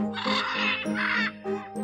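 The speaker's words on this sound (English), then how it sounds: "That's a parrot." A parrot sound effect from a picture book plays as a string of harsh, raspy squawks in quick bursts, loud and close with no one talking.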